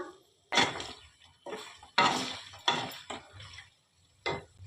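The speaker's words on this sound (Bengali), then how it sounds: "একটু ঢাকা দিয়ে দিলাম, ঢাকাটা খুলে দিলাম।" A metal lid is set on and lifted off a pan while gravy chili chicken cooks at home, giving several separate clanks and scrapes in an irregular rhythm, close and fairly loud, with quiet gaps between them.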